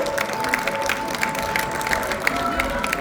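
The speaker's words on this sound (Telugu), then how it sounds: "ఒక్కసారి గట్టిగా చప్పట్లు కొట్టండి" An audience at a children's festival program claps together in a steady, dense patter of many hands that holds evenly from start to finish.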